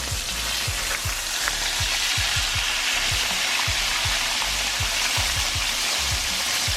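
Mustard fried pork chops sizzle loudly in a pan just after being flipped, a steady close crackle with rapid popping spatters running throughout, no voices.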